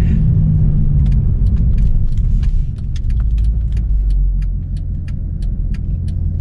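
A Mercedes-AMG C63 Black Series pulls away hard in first gear, its deep engine rumble and road roar steady and close, with light rattling ticks from inside the cabin over the drone.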